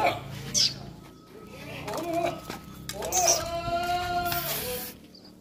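Goats on a farm bleat loudly and close, several wavering calls overlapping in a few bursts, with birds chirping in the background and someone talking now and then.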